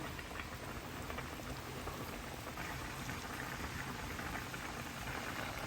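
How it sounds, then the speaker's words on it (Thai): Spaghetti noodles boil in a pot of water with a steady, dense bubbling hiss that holds evenly throughout, with no talking over it. "เดี๋ยวเราจะรอให้เส้นใสนะคะ ต้มไปเรื่อย ๆ ก่อนนะคะ"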